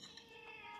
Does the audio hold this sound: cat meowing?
yes